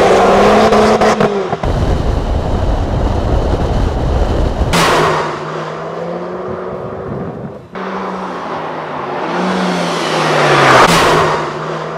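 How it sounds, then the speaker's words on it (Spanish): A Renault Clio RS Trophy is driven hard. Its engine note climbs and drops through several loud, close revving runs, with abrupt breaks between gears and a car passing by. "después de hacer unos cuantos kilómetros a bordo del Clio RS Trophy, puedo decir que es un coche sumamente divertido cuando elevas el ritmo"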